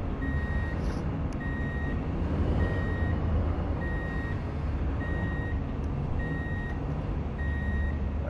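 A truck backs in within the Truck & Logistics Simulator game, its reversing alarm giving steady, evenly spaced beeps about every 0.6 seconds over a low, continuous engine rumble, with no one talking.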